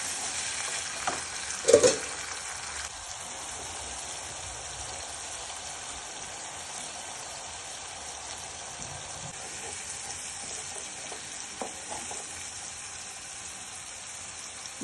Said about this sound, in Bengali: এক চামচ লবণ দিয়ে মশলাটা ভালো করে কষিয়ে নিতে হবে।